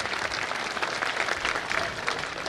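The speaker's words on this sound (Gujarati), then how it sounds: "હવે બધા તાળીઓ પાડો" A crowd at an outdoor political rally in a Gujarat village claps steadily, a dense and even wash of applause that carries on without a break and with no voices over it.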